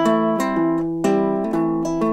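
Strummed low-pitched baritone guitar chords ring out, alternating between two chords with a rich, sustained tone and no voices.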